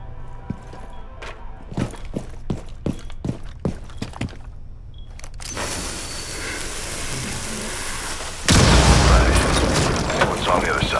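Footsteps patter, then a low rumbling swell builds into a loud, booming bomb explosion in Rainbow Six Siege near the end, with a voice talking over it.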